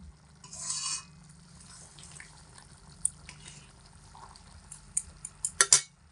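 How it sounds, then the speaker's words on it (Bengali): A spoon stirs sugar into pea curry in a pan, giving soft scraping and light clinks against the metal, with a few sharper taps near the end over a quiet kitchen background. "হালকা একটু নাড়াচাড়া করে দেব চিনি দিয়ে, যাতে করে চিনিটা সমস্ত তরকারির মধ্যে খুব ভালো করে মিশে যায়।"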